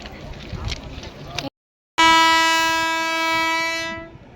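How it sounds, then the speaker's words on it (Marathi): An approaching train sounds a long, loud horn blast that rings out steadily for about two seconds before fading, after a brief stretch of rumbling background noise and a sudden drop to silence. "अशी रेल्वे येते बघा"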